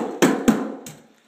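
Staple gun driving staples into carpet pad on a floor, three sharp close snaps spaced under a second apart, the last one softer.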